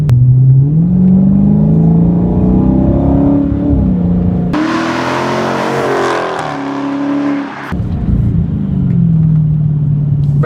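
A Dodge Charger Daytona 392 engine revs and accelerates loudly up close, a deep throaty V8 roar that climbs through the gears, with a brief rougher, noisier burst in the middle before the roar resumes.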